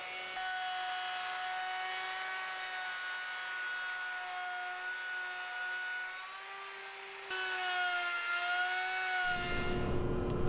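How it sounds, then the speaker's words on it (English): A jigsaw cuts openings in wood with a steady, high motor whine whose pitch wavers slightly as it works, and a rougher, louder cutting noise comes in near the end, with no voices. "and then finally a jigsaw to cut those lines up"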